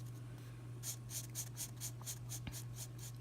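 A thin-nib pen scratches across paper while colouring, making a quick series of soft, regular strokes close by over a steady low hum.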